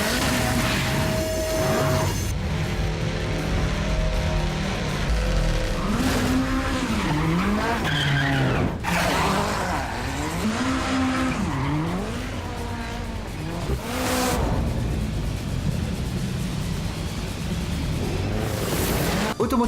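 A Subaru WRX rally car drifts through a Gymkhana course in Buffalo near New York, engine revving up and down while tires squeal loudly in repeated slides, with a voice faintly underneath.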